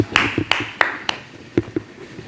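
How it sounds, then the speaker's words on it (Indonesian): A small group claps sparsely at a school stand-up comedy performance, giving a handful of separate, fairly close claps spread over about two seconds with gaps between them. "Oke, tepuk tangan."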